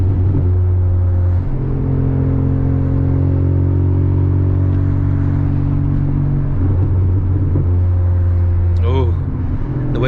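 A Mazda RX8 rotary engine and exhaust gurgling steadily at low revs on a freeway, a loud continuous droning rumble with shifting tones that rise and settle through the run.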